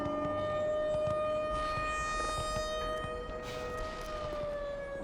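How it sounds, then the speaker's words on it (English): A loud, steady civil-defense-style siren wails continuously in the Lambda complex of the Black Mesa video game, its sustained rising and falling tones filling the scene with no talk over it. "Leaving that noisy siren behind us."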